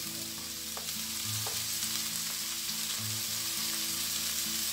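Pork sizzling and rendering its own fat in a hot pan, a steady close crackle and hiss with faint stirring scrapes and no voices.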